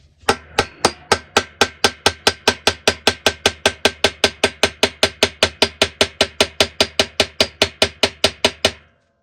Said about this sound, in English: I'm gonna get a hammer. I'm gonna tap on that bolt in the center.